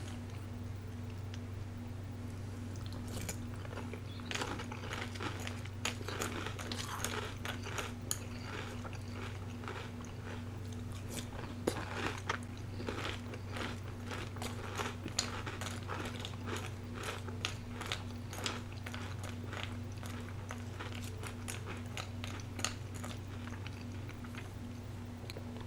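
Magic Spoon cereal is chewed in a steady run of soft, close crunches over a constant low hum, quiet and intimate with no talking.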